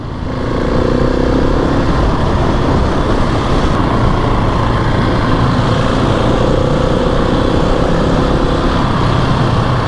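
A 2020 Husqvarna 701 SM supermoto's single-cylinder engine drones steadily and loudly on the road during a ride, with a constant, rough engine tone under wind rush for the whole stretch.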